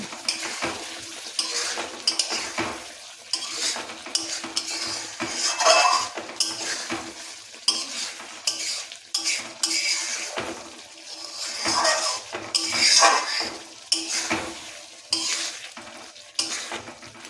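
Prawns tipped into a thick masala in a pan for a prawn malaikari, then stirred: repeated scraping and clinking of utensil against pan with a low sizzle, close and steady with no talking.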